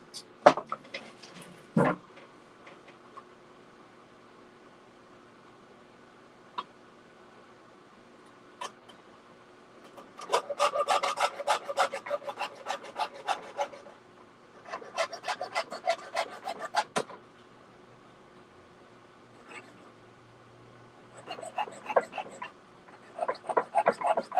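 Quiet rasping strokes of a hand saw cutting wood, coming in rhythmic clusters separated by pauses, close by with faint movement sounds between.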